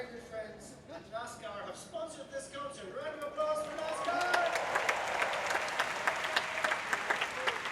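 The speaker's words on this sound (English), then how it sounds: "Round of applause for NASCAR!" Clapping from a crowd at a concert builds and grows louder, with speech and music-like tones fading underneath before dense applause takes over.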